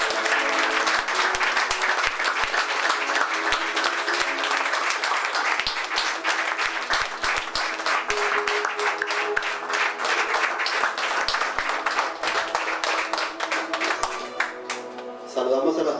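A church congregation claps steadily and vigorously during a Sunday service, a dense, continuous wash of applause lasting the whole stretch, with a voice speaking over it.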